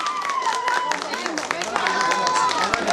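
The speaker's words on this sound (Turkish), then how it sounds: "Canlı canlı olsun alkışlar." Wedding guests clap at a celebration, a dense run of quick handclaps under loud chatter and talking voices, with a high whistling tone drifting through.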